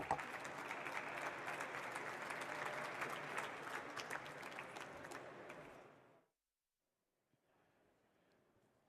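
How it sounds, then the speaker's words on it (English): An audience at a live stage session at a car dealers' convention applauds after a talk. The clapping is steady and full for about six seconds, then cuts off into near silence with a faint murmur. "once again, let's give Glenn a round of applause"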